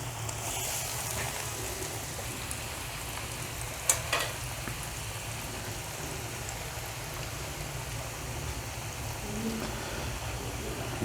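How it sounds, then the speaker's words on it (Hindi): Chicken veg rolls frying in hot oil give a steady, dense sizzle and crackle throughout, close by, with a couple of brief clinks near the middle and no talking. "फ्राई हो रहे हैं हमारे रोल।"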